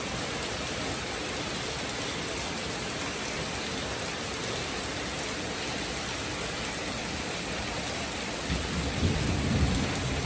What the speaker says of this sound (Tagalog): Ngayon na ulan, nakulog po siya guys.